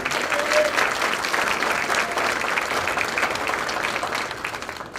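Sustained applause from an audience at an anniversary youth awards dinner, a steady dense clatter of many hands clapping, loud and continuous throughout with no voices standing out.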